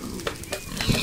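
Minecraft pig giving short grunting oinks, two or three quick snorts close by over a faint sizzling background, with a slightly louder low grunt near the end.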